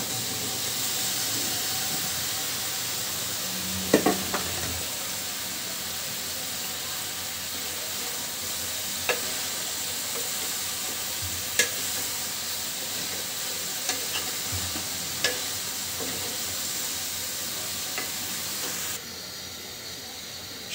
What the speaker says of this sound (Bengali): সবজিটা কিন্তু মশলার সঙ্গে খুব ভালোভাবে মাখিয়ে নিয়েছি।